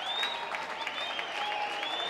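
Auburn baseball crowd applauding, a steady wash of clapping and cheering from the stands that holds at a moderate, fairly distant level for the whole stretch, with no voices standing out.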